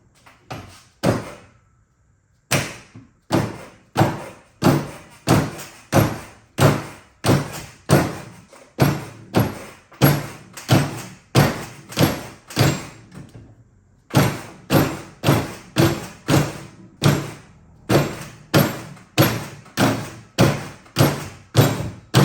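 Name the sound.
wrench whacked against flex head ratchet handle held in vise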